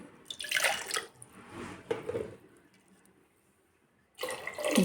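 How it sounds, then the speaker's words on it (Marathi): Water is poured in splashy bursts into a pressure cooker of fresh green pea usal, two short pours early on and a louder one at the end, with quiet gaps between. "परत थोडंसं घालते पाणी"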